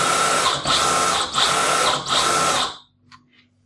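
An electric longboard's hub motor whirs in four short, high-pitched spinning bursts with brief dips between them as it reverses direction, close and steady, then stops with faint clicks afterward.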